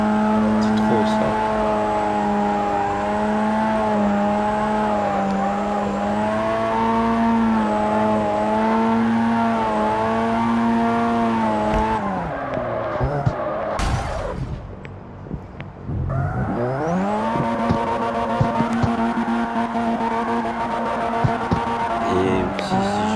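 A Mazda RX-7 drifting in the racing video game CarX Street gives a loud, sustained engine howl with tire squeal. The pitch wavers through the slide, dips sharply midway and then climbs again.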